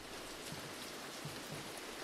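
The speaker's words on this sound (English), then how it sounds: "It's raining now." Rain falls steadily in the horror game Devour, a soft, even hiss of drops with occasional faint patters, quiet and continuous with no talking.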